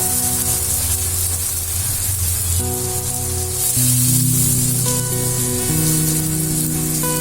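Onion and garlic paste frying in a pan for coconut milk pilaf, a steady close sizzle running throughout, joined by music.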